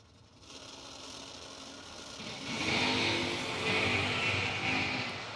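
Drag racing cars, a Camaro and a 1982 Mustang, launching at a bracket racing event, their engine roar swelling from a steady hum into a loud, sustained blast partway through with no talk.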